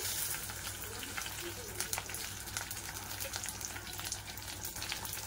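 Oil sizzling loudly in a kadai as dried red chillies, garlic and curry leaves are tempered for sambar, a dense continuous crackle close by with faint stirring.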